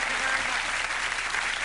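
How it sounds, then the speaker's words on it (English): A brief burst of even studio audience applause on the Letterman late-night talk show, fairly close and steady for under two seconds. "Thank you for that smattering of applause."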